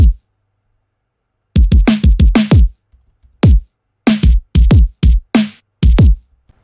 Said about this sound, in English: There's nothing too interesting about the kicks and the snare, it's just like a ton of different layers on top of each other.